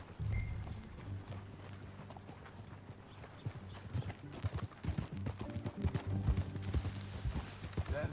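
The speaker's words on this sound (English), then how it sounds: "That a new horse?" Horse hooves clip-clop at a steady trot in Red Dead Redemption II, over a low rumbling backdrop that grows busier toward the end.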